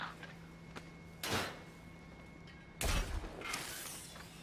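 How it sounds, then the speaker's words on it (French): A door opening in the video game Batman Arkham Knight, heard as two broadband mechanical bursts, a short swish followed later by a louder, heavier sliding thud, over a steady low hum with no talk. "La porte est ouverte."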